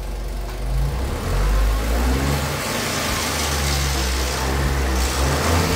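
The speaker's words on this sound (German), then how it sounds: "wenn ihr den Motor startet und der Motor läuft und der hört sich dann so an. Der hört sich schon beschissen an. Gib mal Gas." A Smart 453 Brabus engine with a rattling timing chain runs close by and revs, a rough, uneven mechanical drone rising and falling with throttle over a clattering undertone, no voices.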